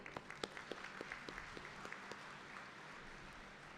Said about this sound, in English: So I think the students deserve a big applause.